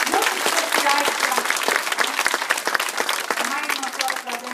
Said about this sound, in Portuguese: Vamos bater uma salva de palmas mais forte, né?